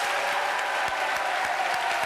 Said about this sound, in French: On s'applaudit aussi